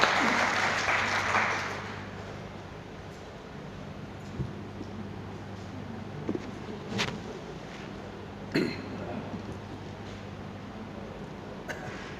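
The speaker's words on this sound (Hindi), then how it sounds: "एक बार तालियों के साथ सर का स्वागत कीजिए" Audience applause welcoming a guest at a Hindi book launch ceremony, a short burst of clapping in a hall that fades within about two seconds into quiet room tone with scattered coughs.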